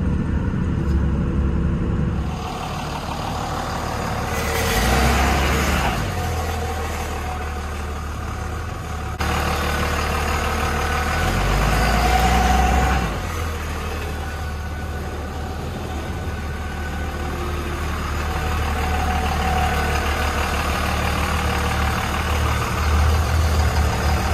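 A 24-valve second-generation Cummins diesel truck engine runs steadily with a deep low rumble and idle clatter, swelling gently in loudness a few times; no voices.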